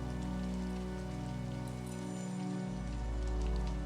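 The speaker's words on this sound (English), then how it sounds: "the rain keeps going beyond the window" Steady rain falls outside a window, a soft continuous hiss of drops on surfaces with a low steady rumble beneath, unbroken and even throughout.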